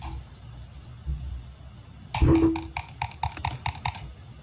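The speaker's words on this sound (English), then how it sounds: "really loud keyboard." Loud computer keyboard typing, a sudden burst of rapid clattering key clicks that starts midway and continues in quick irregular bursts, close and prominent over faint background noise.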